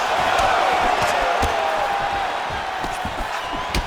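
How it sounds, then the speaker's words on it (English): A crowd roars and murmurs steadily in the UFC 5 video game, with sharp impact thuds and slaps punctuating the noise as the fighters exchange blows. "you hear the crowd react every time they come together"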